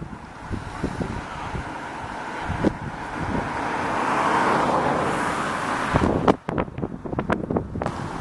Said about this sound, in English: This tree is blowing in the wind.